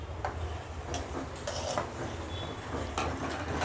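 A spoon stirs mango custard pudding mixture in a pot, giving a steady muffled churning with a handful of light ticks and scrapes against the vessel at uneven intervals.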